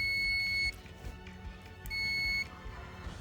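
A multimeter tester on its continuity buzzer setting gives two steady high-pitched beeps, each lasting under a second with a short pause between, near and clear over light handling noise.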